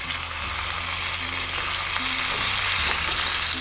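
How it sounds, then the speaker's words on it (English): Pancetta fries in a pan as its fat renders out, a loud, dense, unbroken sizzle with a low hum running beneath it, heard alone without speech. "going back to our pancetta, you're gonna see some color developing in there and a lot of the fats rendering out"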